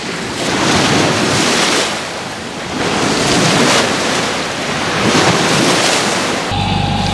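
Sea waves surging against a sailboat underway with strong wind buffeting the microphone, loud continuous rushing water swelling and easing in broad waves, no voices.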